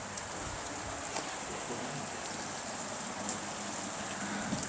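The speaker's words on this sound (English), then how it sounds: "It's not over a bit of bloody rain now just to wash it all away." Heavy rain pelts down in a dense, constant hiss, loud and steady with a few brief spatters on top and no voices.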